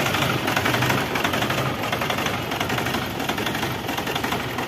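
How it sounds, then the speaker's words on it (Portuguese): Nissan Frontier engine with a faulty injector idles roughly and unevenly, a loud continuous mechanical rumble with irregular knocking pulses close to the microphone throughout. "Já sabemos que tem bico com problema. Tá com marcha lenta irregular."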